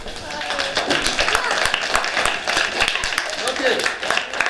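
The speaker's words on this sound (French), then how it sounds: "Applaudissez." A classroom of pupils applauds during a lesson, a brisk patter of many hands clapping at close range with children's voices mixed in.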